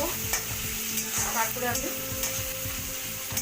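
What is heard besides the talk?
onions frying in a pan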